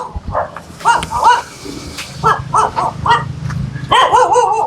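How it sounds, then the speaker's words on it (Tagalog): A dog barks repeatedly in short, sharp bursts, fairly close, with a quick run of yaps at the end and some background voices. "Ay, may aso."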